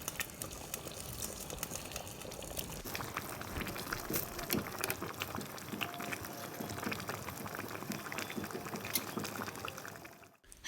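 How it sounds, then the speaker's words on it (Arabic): Broccoli added to a simmering stew: continuous bubbling, sizzling and liquid splashing, close and steady for about ten seconds before cutting off. "نزيدوا لهنا البروكلي"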